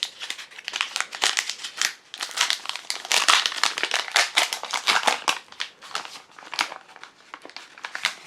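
The wrapper of a Hu Simple Milk Chocolate bar is torn open up close, with sharp, bright crinkling and ripping bursts coming in quick irregular bunches and short pauses between.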